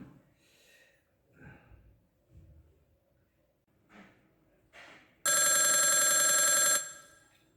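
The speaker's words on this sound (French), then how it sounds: "Ok, je vais appeler Odile." Outgoing phone call: after several soft breaths and small noises, a loud electronic telephone ring sounds once for about a second and a half, close and clear, then stops.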